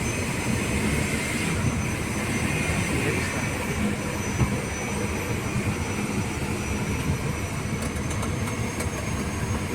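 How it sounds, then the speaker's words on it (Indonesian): A car's engine idles steadily with its air conditioning switched on, heard as an even, continuous broadband rumble and hiss that holds at a constant level with no voices. "Kita hidupkan mesin dulu."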